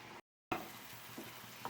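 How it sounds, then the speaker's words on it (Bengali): Spiced masala with large tomatoes frying in a pan, a steady close sizzle broken by a brief gap of silence, with a few soft stirring knocks. "বড় সাইজের টমেটো দিয়ে দিলাম, দিয়ে দেবো ভিজানো মশলাটা, ভালো করে কষিয়ে নেব"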